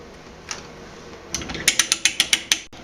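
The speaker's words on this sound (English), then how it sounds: "now that it's caught, I'm going to start really cutting the threads" A hand-turned pipe threading die cuts threads on galvanized steel pipe, giving a series of sharp metallic ratcheting clicks that grow regular and louder toward the end, close by and with no talking.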